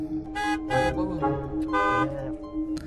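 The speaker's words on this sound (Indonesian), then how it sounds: "mobil di belakangnya terus membunyikan klakson pada Sophie yang berjalan sangat lambat." A car horn honks repeatedly from a vehicle behind on a road, with several short blasts and one longer one at an uneven rhythm, close and loud over low traffic rumble.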